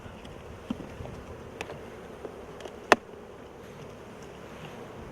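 Honeybees buzz faintly around an opened hive during an inspection, a low, steady hum with a few soft clicks and one sharp knock of a hive tool.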